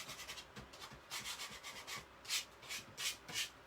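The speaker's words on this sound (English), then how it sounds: "So I'm going to scrape them into my bin." Small die-cut paper scraps are scraped into a bin with a series of quiet rubbing, scratching strokes. They come in uneven bursts, each a bit louder than the one before, with no voices.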